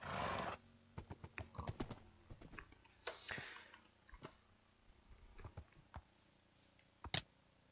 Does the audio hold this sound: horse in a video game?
yes